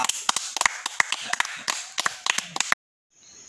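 Several people clap their hands loudly in quick, uneven bursts of sharp slaps, close by, before the clapping cuts off abruptly into near silence.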